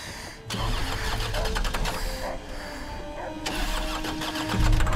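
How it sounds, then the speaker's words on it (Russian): A car engine cranks and tries to start in a horror film about a dog pack, with a steady loud grinding churn and a few surges over about five seconds, heard alone. "Заводись, ебучая машина, заводись!"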